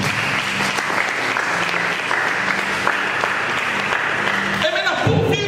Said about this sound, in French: Est-ce que vous acclamez pour vous-même,